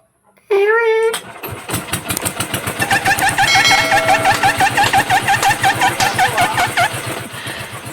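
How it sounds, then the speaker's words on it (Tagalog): A household generator at a rural farm home being started by hand: a short whirring pull, then the engine catches and runs with a loud, steady, rapid chugging close by, a thin whine riding above it. "sinubukan ko paandarin yung generator namin pero pinagsitripan ako ng generator namin"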